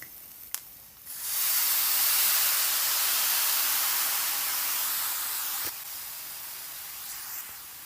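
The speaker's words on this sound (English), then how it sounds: "I'm gonna add some soya sauce." Soy sauce hits fried rice with frankfurter and egg in a hot pan. It sets off a loud, sustained sizzling hiss that lasts several seconds, then settles into a softer simmering hiss.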